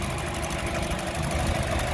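A started engine idles on a second-hand car being inspected before purchase, producing a close, loud, steady low rumble with a faint knocking pulse across the short stretch.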